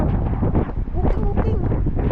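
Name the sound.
wind blowing into the microphone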